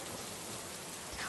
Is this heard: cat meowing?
no